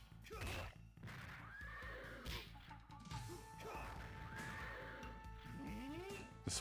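A horse neighs loudly in a Neo-Geo CD fighting game. The whinny is mixed with game music, hoofbeat clip-clops and crashing hit sounds.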